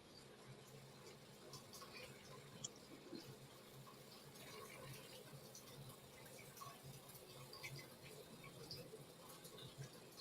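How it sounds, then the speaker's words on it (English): Water trickles and bubbles steadily in a home fish tank, a faint continuous splashing with small drips, heard quietly in the background of a room. "Oh, it's my fish tank."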